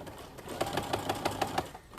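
A sewing machine runs a regular stitch along a jeans hem, its needle thumping in a fast, even series of close, steady beats for most of two seconds before slowing at the end.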